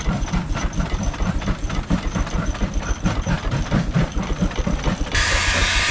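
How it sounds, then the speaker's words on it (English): Old steam engines running on a belt at a steam show, a rhythmic, fast chuffing beat with mechanical clatter, ending in a sudden steady burst of loud hissing steam. "watching these old steam engines sit here and rock like this back and forth"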